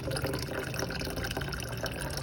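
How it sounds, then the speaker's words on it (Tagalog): Water runs steadily from a tap into a container after sink cleaning, a continuous close splashing and trickling sound with no talk. "tapos na tayo maglagay ng tubig."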